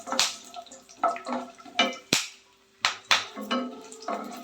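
Sharp crackling pops of spices spluttering in hot oil for dosai, irregular bursts close by, with a louder snap midway.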